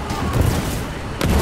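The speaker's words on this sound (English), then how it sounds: "Oh, who shot that? Shot on friendly." Gunfire in the Foxhole war game on Tempest Island, with a couple of loud broadband shot bursts, one near the start and a sharper one after a second, over a dense rumbling battlefield background.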